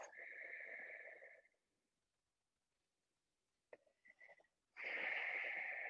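Two slow, deep breaths near the microphone during a yoga class cool-down: a long airy breath, a quiet pause with a faint sniff, then another full breath, with no talking.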